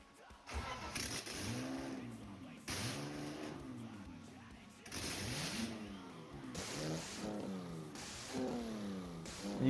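A BMW 325i E30 convertible engine running without headers or a full exhaust, revving up and down in repeated rising and falling bursts, loud and raw, close by.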